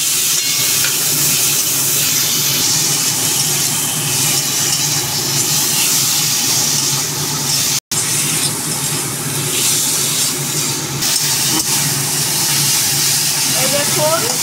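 Tomato dropped into a hot pan sizzles and hisses steadily while fish curry cooks on the stove, a broad frying hiss with a brief gap midway and a short stir at the end.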